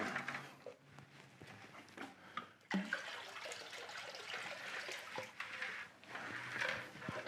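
Water poured into a plastic electrolysis tank holding rusty cast iron pans, a continuous faint splashing and trickling stream that swells and ebbs over several seconds with a brief clunk partway through, heard alone without talk.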